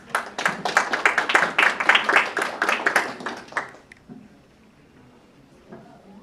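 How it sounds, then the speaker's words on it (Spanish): An audience at an international conference on inclusive innovation in Peru claps in a burst of applause for about four seconds, then it fades to a quiet room. "Aplausos para ella."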